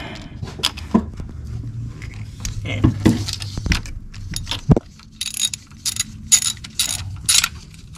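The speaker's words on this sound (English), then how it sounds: "So I'm gonna remove it by using number 10 millimeter socket right there." A 10 mm socket wrench ratchets a part off a 2014 GMC Terrain SLE 2.4 Ecotec engine. Quick bursts of metallic clicking come close up, mixed with clanks and a brief voice.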